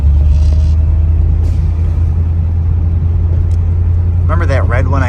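A 1974 Chevrolet Corvette with a factory 4-speed manual cruises along, its engine a loud, steady low drone with constant road rumble, while people talk inside the car.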